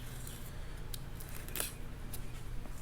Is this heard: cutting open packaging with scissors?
yes